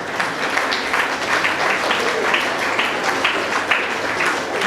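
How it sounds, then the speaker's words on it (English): An audience at a festival prize announcement for medical college students breaks into steady applause, dense clapping filling the whole stretch at a fairly loud, even level with no talk over it. "Please give a big round of applause."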